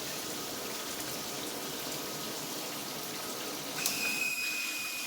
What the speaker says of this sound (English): There's regular shower head on low.